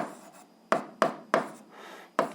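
Pen on paper while writing an eighth-grade algebra expression by hand: quick scratchy strokes and taps, four distinct hits after a soft start, close and quiet with no voices.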